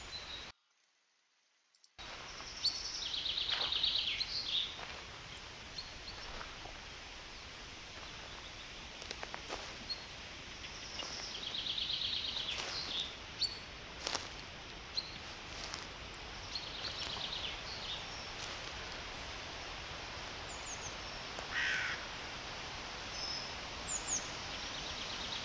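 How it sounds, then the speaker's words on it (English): Forest ambience during a relaxing nature walk, with scattered high bird chirps and calls, soft rustling and occasional clicks or footsteps, steady and fairly quiet throughout with no talk. "just enjoy the nature, the walk, the sounds of the forest"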